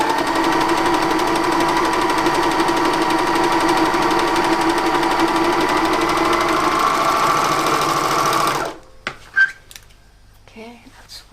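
A sewing machine runs in a long steady whirring burst as it stitches a shirt cuff in place, then stops abruptly near the end, leaving a few quiet handling sounds.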